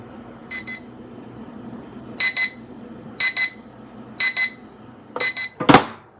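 Four short double beeps from a digital timer at steady intervals, then a quicker burst, over faint background hum, ending with a brief louder noise.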